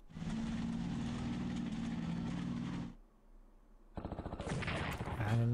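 Gunfire attack on a militia unit in Strategic Command WWII, a loud sustained rattle of rapid fire followed by a pause and a second burst of quick crackling shots.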